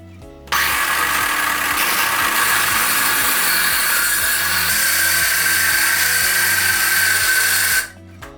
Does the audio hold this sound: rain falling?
no